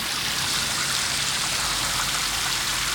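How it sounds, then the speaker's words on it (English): A pool light fountain sprays a steady stream of water, a continuous close hiss and splash of falling water with no pauses and no voices. "It throws a pretty decent stream of water"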